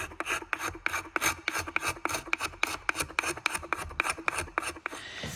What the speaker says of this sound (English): So we're just gonna take and scrape these areas nice and clean.